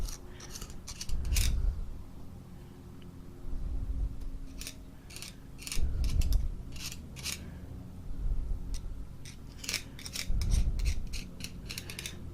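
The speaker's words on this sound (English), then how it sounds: "I take a little screwdriver, flat screwdriver, and I just start putting some down in there." A small flat screwdriver works grease into a Suzuki Boulevard motorcycle driveshaft, making repeated close scraping and metallic clicking strokes in a slow, uneven rhythm.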